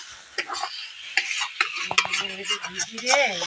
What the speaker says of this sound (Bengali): হলুদ দিয়েছি একটু রং হওয়ার জন্য নুন অল্প পরিমাণ নুন দিয়েছি ভালো করে একটু নেড়ে নিন